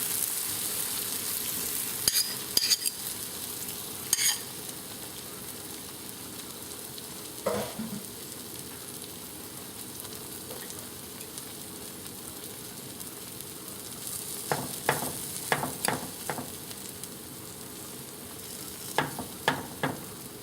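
Eggs with onion, tomato and green pepper fry in a pan as an omelette, giving a steady soft sizzle with scattered clicks and scrapes from the pan and utensil.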